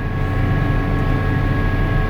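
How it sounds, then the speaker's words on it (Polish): A 2008 Massey Ferguson 7490 Dyna VT tractor travels at about 42 km/h with engine revs capped near 1900, giving a loud, steady, even drone and hum heard from the cab with no talking. "Ładnie, równo, ładny głos silnika, skrzyni."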